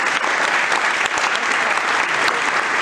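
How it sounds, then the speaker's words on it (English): A room full of people applauds after a food-related talk, a dense, loud, steady wash of many hands clapping throughout without pause. "Give that man a round of applause"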